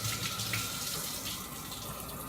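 Water runs briefly in a kitchen while making a vegan sushi roll, a soft, steady trickle heard close up with no talking.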